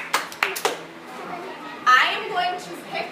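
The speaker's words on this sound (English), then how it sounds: "If you can hear me, clap twice." Children in a summer classroom clap their hands in a few quick, sharp claps near the start, followed by a teacher talking and faint child chatter in the room.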